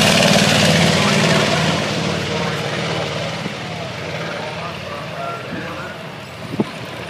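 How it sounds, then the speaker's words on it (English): The Royal Netherlands Air Force historic flight's B-25 Mitchell bomber climbs away after takeoff, its piston engines a broad, loud roar that slowly fades as it departs, with a voice talking over it throughout. "she's airborne, the B25."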